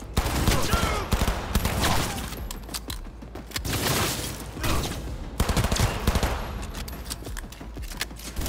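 Gunfire in the video game Cyberpunk 2077: rapid bursts and repeated shots crackle in dense, irregular volleys, loud and close.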